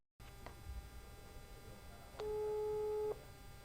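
A telephone call tone sounds as a coach's number is dialled: one steady, moderately loud tone held for about a second over a low background hum, with a few faint clicks before it.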